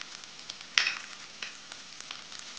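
Masala spices for a spicy mushroom masala sizzle gently in a pan, a soft steady crackle with one sharper pop early on and faint scattered ticks around it.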